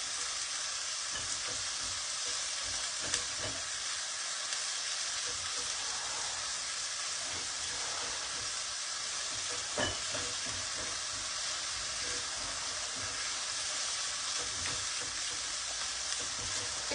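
Onions lightly sautéing in a pan for a vegetarian Burmese khow suey give a steady, even hiss of sizzling oil, with a few faint stirring clicks and no voices.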